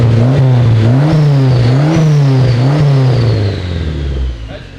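The VVL engine of a Nissan S15 Silvia runs right after its first start, close and loud, with quick rhythmic revs rising and falling in regular pulses before settling toward idle and fading slightly.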